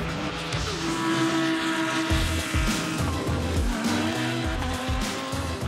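GT race cars, including a Lamborghini Huracan, Porsche 991 GT3, McLaren 650S and Ferrari 488, race at the Paul Ricard circuit, their engines roaring steadily and loud with rising and falling revs throughout.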